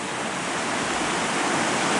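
A river rushes past near a bridge along a Great Divide Trail hike, a dense, continuous wash of flowing water, steady and fairly close, with no voices.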